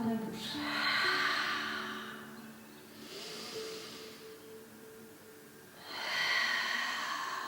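Slow, audible breaths during a Pilates exercise, drawn in through the nose and pushed out through the mouth. About three long, close, airy exhales and inhales come at an unhurried, even pace, with no talk over them.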